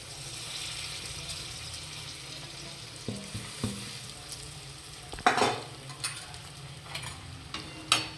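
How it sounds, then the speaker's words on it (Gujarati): Flattened rice (poha) being stirred in a pan: soft scraping and stirring strokes over a low, steady background hiss, with a few sharper clinks toward the end. "આ રીતે હલાવીશું."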